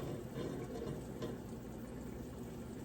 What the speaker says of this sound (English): I'm doing a slow pour because I don't want it to like splatter all over the place